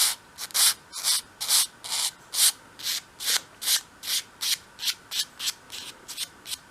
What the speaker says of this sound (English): I also always sand from front to back as well, and then you get that sort of nice curve going that way